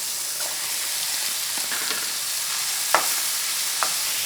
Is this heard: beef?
yes